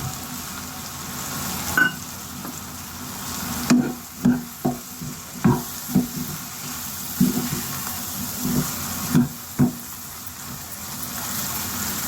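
Fried tomato and onion pieces are stirred with ground peanut powder in a sizzling pan, a steady frying hiss broken by a series of close scraping and clattering strokes of the spoon.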